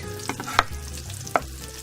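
Garlic and hot peppers fry in a hot pan, giving a steady soft sizzle with a few sharp scrapes of stirring, fairly close and with no voices.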